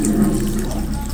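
Water poured onto pickled lemons in a jar, a steady continuous splashing gush running close and fairly loud for about a second with no pause.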